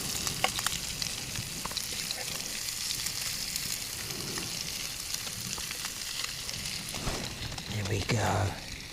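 Skinless fish sizzling as it cooks over a primitive Swedish fire torch on the coast, a steady crackling fry running throughout, with someone talking over it and a brief shuffle near the end.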